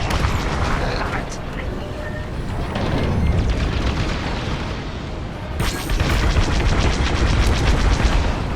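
Bombing run explosions in Star Wars: Squadrons: continuous heavy booming blasts and rumbling space-combat noise, swelling louder in the last few seconds, with voices talking over the action.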